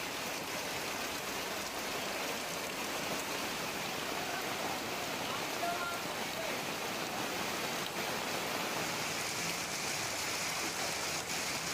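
Heavy downpour driven by strong wind in Jetpur, near Rajkot, forms a steady, dense roar of rain that holds at an even loudness throughout, with no voices.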